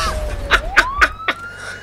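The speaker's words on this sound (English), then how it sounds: "Get sirens on." A police car siren in the driving game BeamNG gives a short run of rising electronic wails and rapid whooping yelps, loud and close, with no talking.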